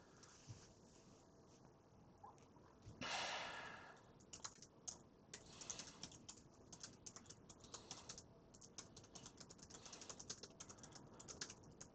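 Steady typing on a computer keyboard, with quick irregular clicks and a brief louder burst of keystrokes, heard alone and fairly quiet.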